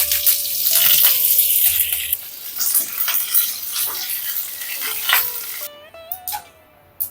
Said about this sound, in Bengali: অল্প তেল নিয়ে নিলাম আমি দিয়ে দিলাম জিরে সর্ষে আধা চা চামচ করে আর কারি পাতা